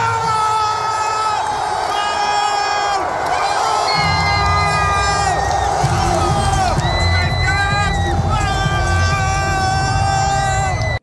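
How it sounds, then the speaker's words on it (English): A basketball crowd roars and whoops during the Ginebra San Miguel vs. Bay Area Dragons Finals Game 7 at Philippine Arena, a loud sustained cheer with rising shouts and a commentator talking over it. "kaya buhay na buhay ang crowd"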